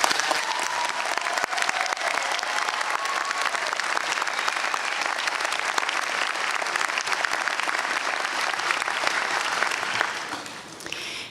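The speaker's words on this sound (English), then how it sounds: "Join me in a round of applause." Sustained applause from a large audience at a university commencement ceremony, steady and loud for about ten seconds before tapering off at the end.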